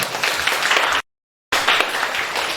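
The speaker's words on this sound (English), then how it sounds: "Give them a big round of applause." Dense crowd applause, loud and steady, briefly cut to silence midway before resuming.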